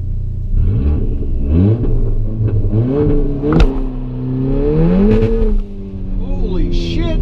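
A VW Golf R MK7 with a Haldex switch fitted, doing a burnout: the engine revs loudly up and down in repeated rising sweeps, with a sharp bang partway through and a brief squeal near the end.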